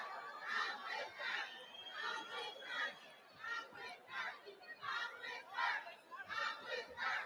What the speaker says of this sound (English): They're chanting, "I'm with her."